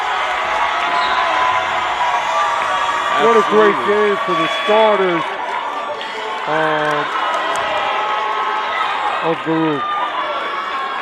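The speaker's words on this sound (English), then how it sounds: "And the crowd getting excited for Jackson Edney." Spectators at a Baruch men's college basketball game against Hunter send up a steady crowd roar with whoops and cheers as a substitute checks in, while an announcer talks over the noise.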